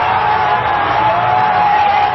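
Stadium crowd at an India–Pakistan cricket match cheering after a tied result, a steady, dense roar of many voices that holds at a constant loud level throughout.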